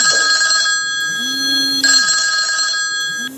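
A telephone ringtone rings loud and close, an electronic tonal chime pattern that repeats in short cycles.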